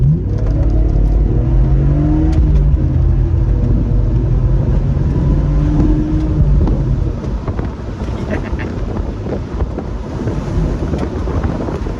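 An early-2000s German 3-litre manual convertible pulls away in first gear under heavy wind buffeting, its low engine drone rising in pitch as it accelerates, then easing back slightly.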